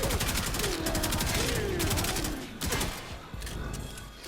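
Kuva Karak assault rifle firing in Warframe, a rapid stream of loud close shots in bursts with short gaps, layered over game effects and a tonal warble from the game.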